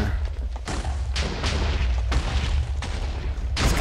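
Blocks explode one after another in a video game like a small fireworks show, a rapid series of loud booms and crackling bursts layered over a deep rumble, with no talking.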